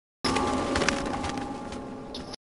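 Birds burst into flapping flight inside the horror video game Outlast 2, a dense rustling flurry of wings with cooing pigeon-like calls, loud and close, lasting a couple of seconds with no talk.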